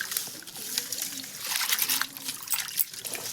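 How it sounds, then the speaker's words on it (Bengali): River snails stirred by hand in water in a bowl, giving a continuous close trickling and sloshing with soft clicks of shells knocking together. "এবার এগুলোকে জল দিয়ে আমি ভালো করে একবার নেড়ে চেড়ে নেবো"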